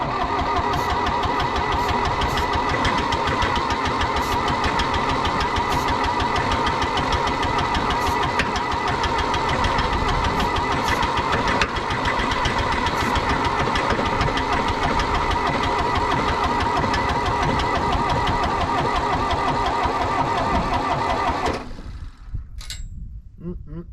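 The diesel engine of an old John Deere 1010 track loader grinds continuously and loudly on its starter for over twenty seconds, a dense steady mechanical churn. The sound then cuts off abruptly, leaving quieter clatter.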